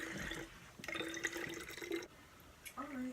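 Rice water poured into a container, a faint trickling splash of liquid at close range, soft and uneven, with a voice talking quietly over it.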